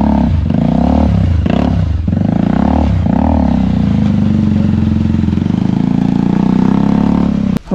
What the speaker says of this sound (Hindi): रेस हल्की दे भैया।